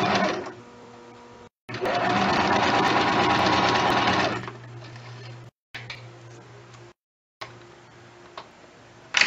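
A sewing machine stitches a straight skirt seam in one long steady whirring run of nearly three seconds, then short bursts and clicks separated by silent gaps, close and clear.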